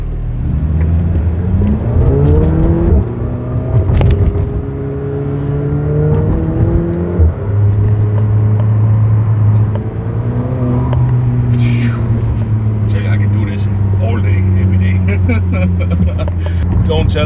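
A car pulls out of a driveway and accelerates, its engine note climbing steadily and loud and close, with people talking over it throughout.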